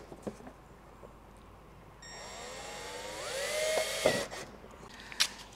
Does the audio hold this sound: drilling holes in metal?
yes